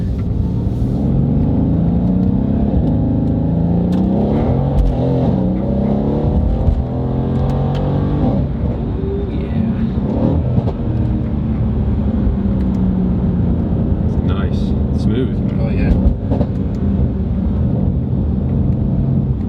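A tuned Mercedes-Benz in race mode accelerates hard on an open road, its engine roaring loud and close from inside the car as it climbs through the gears with rising and falling pitch sweeps and no talk.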